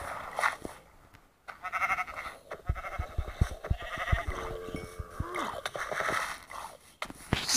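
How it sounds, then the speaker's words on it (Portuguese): A sheep in the Minecraft video game bleats amid busy gameplay noise and clattering effects, fairly loud throughout. "A ovelha tem que beber."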